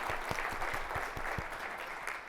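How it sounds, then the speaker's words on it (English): Audience at a company summit event applauding, a dense and steady wash of clapping from many hands that carries on evenly from start to finish. "Give a round of applause."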